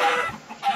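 Chickens in the Mineplex Minecraft game give a short pair of clucks, moderately loud and close, with no one talking.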